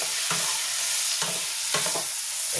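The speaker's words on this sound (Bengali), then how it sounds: "আমি চিকেনটা দিয়ে দেবো, ম্যারিনেট চিকেনটা আমি দিয়ে দেবো" Marinated chicken sizzles and fries in a pan for a homemade chicken pizza, with a steady close hiss broken by a few sharp stirring scrapes, and no voices.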